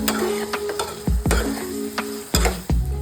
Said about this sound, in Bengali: মশলাটাকে ভালো করে কষিয়ে নেবেন